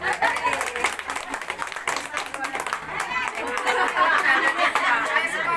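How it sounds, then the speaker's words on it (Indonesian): A crowd claps in a dense, ragged burst mixed with lively chatter, building slightly louder toward the end. "Tepuk tangan."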